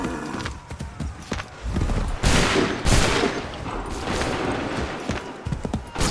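Musket volleys in Assassin's Creed 3 crack out in ragged bursts, two or three loud rolling salvos amid battlefield din and scattered shouts.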